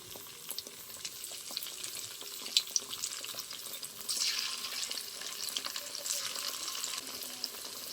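Potato and semolina tiffin snacks fry in a pan of hot oil, giving a steady, close crackling sizzle that grows louder and busier partway through and keeps going to the end.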